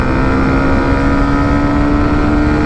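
A 2024 Hero Extreme 125 motorcycle engine revs hard while accelerating through the gears, a loud, steady, close-up engine drone holding one high pitch throughout.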